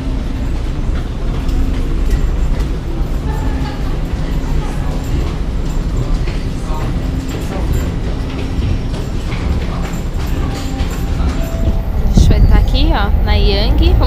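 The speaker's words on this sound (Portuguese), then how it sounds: "Tá vindo aqui, ó, o metrô." A Toronto subway train pulls into a station, a loud continuous rumble and rattle of wheels on track with a brief screech near the end, while people chat nearby on the platform.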